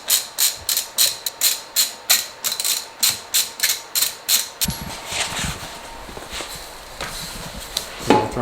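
Ratchet working on a wheel of a VW MK6 GTI, about fourteen quick, evenly spaced metallic clicking bursts up close, then a shift into hissy clattering noise.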